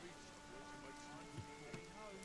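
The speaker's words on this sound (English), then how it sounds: "I love that your character puts their hands up when it starts raining." Steady rain falling in the fantasy game Dragon's Dogma 2, a soft, faint patter with a couple of light thumps, under low game ambience.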